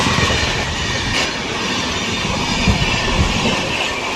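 Gitanjali Express 12859 rolling into a station, a loud, continuous rumble of railcars with wheel clatter and faint squeals, close by and without talk.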